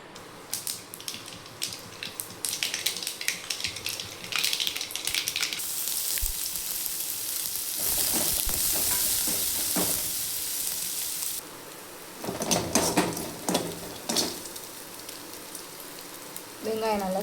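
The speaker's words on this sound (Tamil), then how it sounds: "இப்போ தாளிச்சுக்கலாம்." Spices tempered in a hot kadai give a loud, crackling sizzle that swells into a dense frying hiss and then settles, with spattering pops and a voice speaking briefly near the end.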